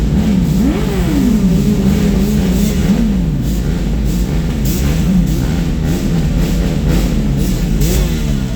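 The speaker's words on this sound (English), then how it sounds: "More scooters." Scooters and motorbikes accelerate and rev through busy street traffic, engine pitch rising and falling in repeated sweeps over a constant loud traffic roar, close by and continuous.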